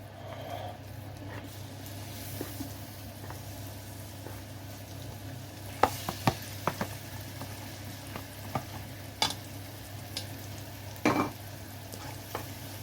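Egusi being stirred in a pot with palm oil: a quiet, steady sizzling hum with scattered soft scraping clicks and taps as the spoon moves through the mixture.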